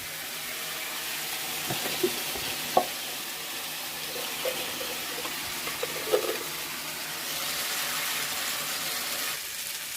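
Ginger-cumin paste goes into oil with bay leaf, dried red chilli, cumin and whole garam masala in a pan, a steady close frying hiss with a few soft stirring clicks and knocks.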